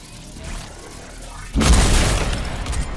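A Third Rail sniper rifle fired through a wall in Fortnite Save the World: after a quiet stretch, one sudden loud booming blast that lingers in a rough, decaying roar.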